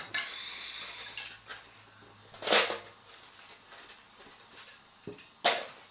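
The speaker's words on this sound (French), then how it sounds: "Donc là, on va couper les pommes de terre." A knife cuts potatoes for a Mediterranean stew, giving a couple of sharp, isolated chops against a board amid light kitchen clatter and a faint low hum.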